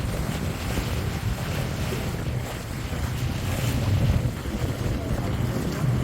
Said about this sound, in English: Very windy as we come in,